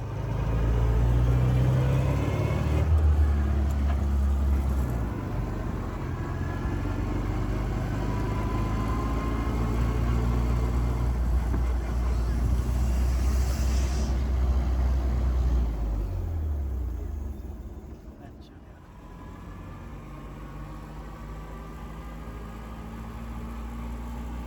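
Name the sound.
1926 Voisin car engine running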